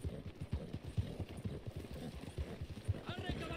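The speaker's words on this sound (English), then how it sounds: "I want my horse back, though." A horse in the video game Red Dead Redemption 2 clip-clops along in a quick, steady rhythm of hoofbeats, soft and fairly distant, while someone talks over it.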